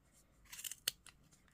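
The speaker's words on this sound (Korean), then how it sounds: "잘라 주시고, 끝까지 잘라 주시고" Scissors cutting crochet yarn for a winter hat, a short cluster of soft snips ending in one sharper cut, close and quiet with no voices.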